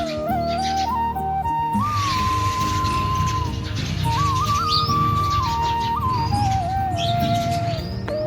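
Sparrows chirp and tweet near a Gir cow shelter, a close, lively mix of bright calls, with a low steady background rumble beneath them.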